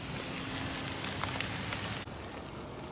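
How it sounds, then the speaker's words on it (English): Light rain starting to fall outdoors in woodland makes a soft, even hiss of drops pattering on surfaces, steady and moderately faint, with a slight change in tone partway through. "And it's just starting to rain."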